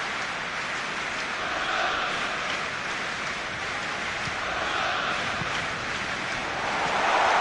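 A stadium crowd in a PS4 football match applauds and murmurs, a dense, steady wash of clapping and noise that swells slightly toward the end, with no voices standing out.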